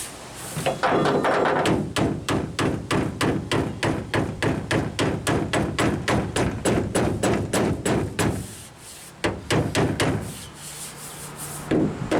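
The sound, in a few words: hammering a Ford pickup bed lip with a bumping iron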